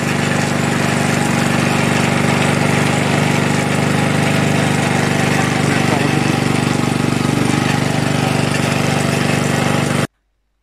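A tiller engine fitted with a newly installed electronic ignition runs steadily. It gives a loud, continuous droning roar close by that holds an even level throughout, then stops abruptly at about ten seconds.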